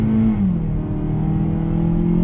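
A 2020 Mazda CX-30 with a naturally aspirated 2-liter engine revs steadily under throttle, a loud, close engine note rising smoothly in pitch, with no talk.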